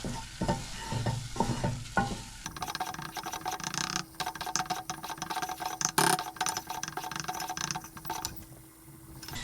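A white sauce base cooks in a pan on the hob for mac and cheese, with rhythmic scraping and clicking stirring strokes over a soft sizzle, close by and fairly quiet.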